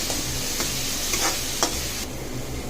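Onions with turmeric, green chili and curry leaves sizzle steadily in a hot pan, with a few scraping stirs of a spoon breaking through the constant frying hiss.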